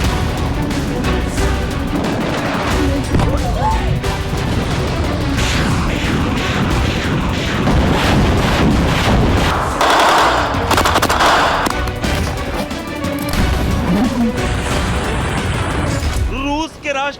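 Gunfire and artillery during a Russian attack on Ukraine: a dense, loud, continuous din of rapid bursts and booms that fills the whole stretch, with a voice talking through part of it.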